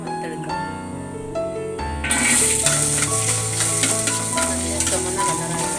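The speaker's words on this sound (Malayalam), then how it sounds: "ആവശ്യത്തിന് നെയ്യ് വീത്തി തേങ്ങാക്കൊത്തൊന്ന് വറുത്തെടുക്കാം" Coconut pieces frying in ghee sizzle steadily in a pan, the crackle swelling louder partway through as they are stirred, with a low continuous hiss and no one speaking.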